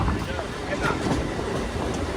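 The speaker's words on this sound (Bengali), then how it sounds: "আমাদের ট্রেন শিয়ালদায় ঢুকছে" A train rolls into Sealdah station with a steady low rumble and faint rail clatter heard from on board, while a person talks over it.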